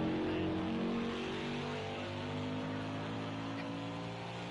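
NASCAR Cup Series stock car engine at Indianapolis in Project CARS 2, a steady loud droning roar at high revs, holding nearly constant pitch with a slight easing toward the end.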